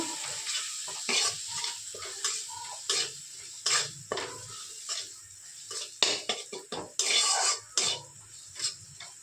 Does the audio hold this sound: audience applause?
no